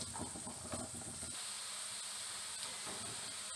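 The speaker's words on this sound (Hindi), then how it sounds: "गाजर को हमने सॉटे कर लिया" Carrots sauté in a pan with roasted garlic, making a continuous bright hiss and sizzle close up, with faint stirring clatter early on that settles into a steadier frying hiss.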